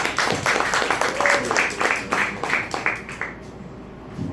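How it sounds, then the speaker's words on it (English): Audience at a stand-up comedy set in a smoke shop claps for a comedian, a burst of scattered hand claps with a few whoops, fading out after about three seconds. "So clap it up, clap it up, clap it up for Jason."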